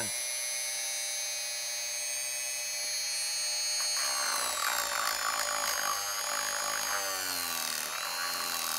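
Jorgensen budget rotary tool whining steadily on low speed, then grinding against material and straining partway through, loud and close with no talk.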